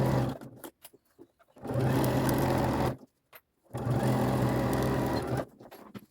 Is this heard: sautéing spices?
no